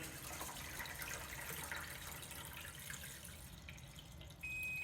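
Water pours into a benchtop portable dishwasher from a jug, giving a steady trickling splash up close, followed by a brief soft tone near the end.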